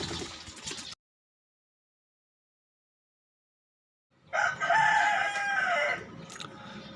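A rooster crows once, loud and close, after a short burst of clucking and a gap of near silence, the call rising and holding before trailing off amid background fowl noise.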